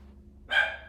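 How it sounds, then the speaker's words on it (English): A dog gives a single sharp bark in a home, fairly close and loud against a quiet background. "I gotta go chill the dogs out here"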